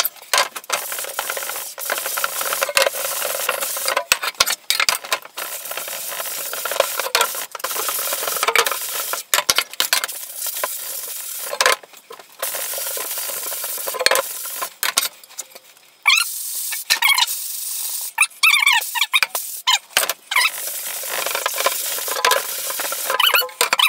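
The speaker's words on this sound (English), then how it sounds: "Gonna scrub it." A screen-printing screen is scrubbed while being reclaimed, giving a continuous loud wet brushing and rubbing sound close by, with brief pauses between bursts of strokes.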